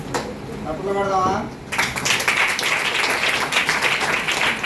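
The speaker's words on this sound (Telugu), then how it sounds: "చప్పట్లు పెడదామా?" A church audience at a Sunday school children's Resurrection skit breaks into loud, sustained clapping after a brief stretch of speech, the applause dense and close and continuing to the end.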